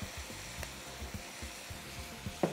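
Garlic and black pepper sauté in a hot pan with a soft steady sizzle, broken by a regular rhythm of stirring strokes and a slightly louder scrape at the end, close by with no talk.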